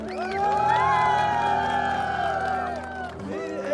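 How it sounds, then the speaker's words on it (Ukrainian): Crowd of volunteers and onlookers cheering and applauding a volunteer team, a loud sustained roar of voices and clapping that swells and holds for several seconds before tapering off. "Давайте все вместе сделаем аплодисменты команде, ребят, все вместе!"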